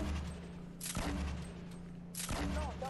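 Gunshots fired at a base in Fortnite, a few heavy booming blasts spaced about a second apart over a steady low game hum.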